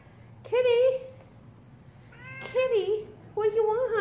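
A house cat, a male pet, meows three times up close in a kitchen, each cry drawn out and rising then falling, with short pauses between and a low steady hum underneath.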